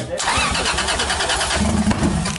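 Lexus IS300 with a 1JZ-GTE engine cranks and catches, the starter's churn running straight into a loud, rough firing close by, with voices talking over it.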